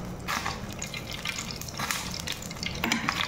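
Oil sizzling in a frying pan just rinsed with water, a continuous close crackling hiss with sputtering pops and faint stirring throughout.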